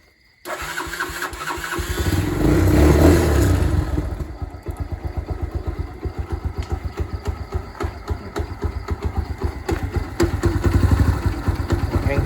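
A used motorcycle engine starts with a loud burst, then idles in a steady close rhythmic putter, with a loose chain adding a rattling, clattering noise throughout.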